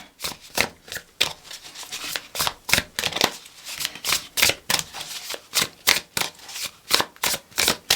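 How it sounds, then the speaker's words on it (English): Quick, crisp riffling and tapping of tarot cards being shuffled by hand, in a steady rhythm of sharp clicks, close up with no talking. "I'm hearing that I need to do a little more hand shuffling"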